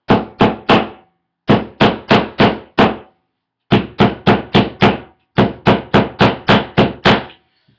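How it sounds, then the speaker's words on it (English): A hammer taps nails lightly and steadily into drywall in short bursts of four to seven quick, close blows, with brief pauses between the groups. "what I'm going to do is hammer in those 4 very lightly"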